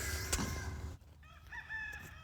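A rooster crows briefly, with a strained, rising call that fades. Faint clucking and a short crow-like phrase follow over quiet background noise.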